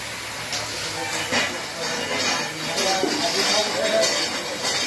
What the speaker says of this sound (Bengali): পূর্ব মেদিনীপুরের ঘাটালে এই মেশিনটা বসেছে, উন্নত সিস্টেমের মুড়ি মেশিন একদম